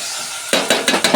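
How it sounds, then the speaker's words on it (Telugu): Cucumber pieces for a green chilli chutney drop into a cooking pot, giving five sharp, close clattering hits that come at uneven intervals over a low background hiss. "ఇప్పుడైతే దోసకాయ ముక్కలు అయితే వేసేసుకుందామండి"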